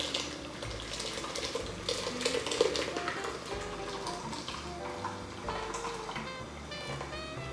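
Tap water runs steadily into a kitchen sink while a bowl that held leftover melon is rinsed out. The splashing is continuous, fairly close and even, with faint clinks and no talking.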